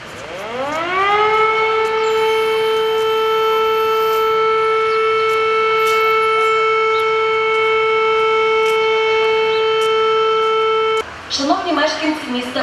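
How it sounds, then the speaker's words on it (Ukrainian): An air raid siren sounds during a school alert drill at School No. 9 in Uzhhorod, rising in pitch, then holding a loud, steady wail for about ten seconds before cutting off abruptly as people begin talking. "за сигналом оповіщення Повітряна тривога"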